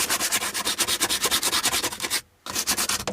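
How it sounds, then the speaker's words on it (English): Rough sandpaper rubs paint and rust off a car in fast, regular back-and-forth strokes, loud and close, with one brief pause before the rhythmic scraping resumes. "giving them a good rub down with some nice rough sandpaper"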